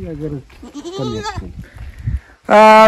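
Goats bleat loudly and close by in a short burst of several wavering cries, the last one strong and sustained, with a voice talking between them.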